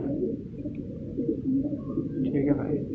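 A Shirazi pigeon coos close by in a low, throaty, continuous burbling that rises and falls over a few seconds.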